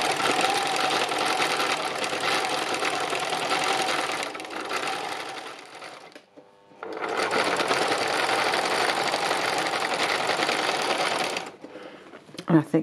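A sewing machine doing free machine embroidery, zigzag-stitching dark brown thread onto navy fabric: a steady, fast mechanical whirring runs loud and close, stops briefly, then resumes before stopping again near the end.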